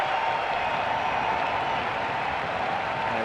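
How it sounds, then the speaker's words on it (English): Riveters fans applaud in the stands at a women's soccer match, a steady, distant wash of clapping from a large crowd that holds evenly throughout. "now the applause from the Riveters"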